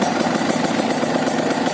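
A used motorcycle idles with the clutch held in, its engine running evenly with a steady, rapid mid-pitched putter, close and loud with no talking.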